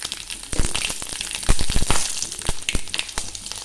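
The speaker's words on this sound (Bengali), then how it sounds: "কড়াতে আমি কালো জিরে ফোড়ন দিলাম, আর দিলাম দুটো কাঁচা লঙ্কা" Nigella seeds and two green chillies sizzle in hot oil in a wok, a close, crackling sputter dense with sharp pops and spits, with no voices.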